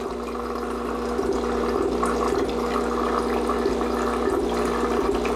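Water runs steadily through a Breville Precision Brewer coffee maker during a flush cycle, a continuous close-up gush and trickle over a low mechanical hum, no pauses, with no one speaking.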